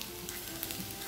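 Curry leaves sizzling in hot oil with cauliflower pepper fry, a brief, soft crackling hiss with faint pops, alone without talk.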